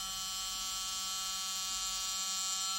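A Hanboost S2 rotary tool spins at 10,000 RPM, giving a steady, high-pitched electric whine with bright tonal overtones, continuous and close with no voices.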